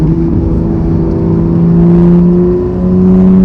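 A 991-generation Porsche 911 GT3 engine holds a loud, steady drone under throttle from inside the cabin, with a slight dip and recovery near the end and no voices.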